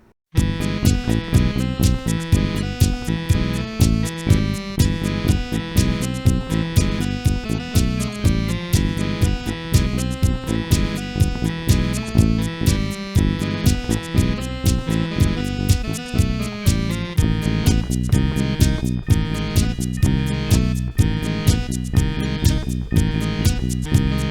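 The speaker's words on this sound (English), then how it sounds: "I've recorded the bass and added some extra instrumentation" A full band groove with a prominent bass line driving steadily underneath drums and layered instruments, loud and continuous with no talking.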